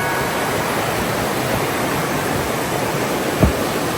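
A steady, full roar of Taranaki Falls near Whakapapa, New Zealand, heard from a bridge, fills the scene without a break, with one brief low thump near the end.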